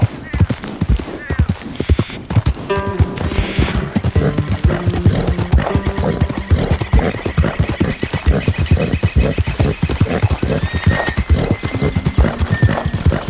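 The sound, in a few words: horse neighing and hooves, from a video game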